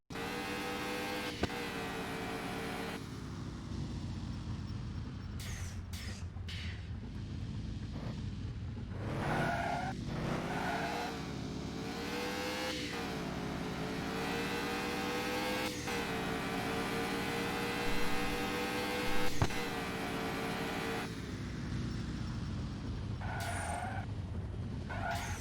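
Twin turbo car engine in the driving game CloseCall, a steady droning engine tone that rises and falls with throttle, brief whooshing bursts breaking in now and then.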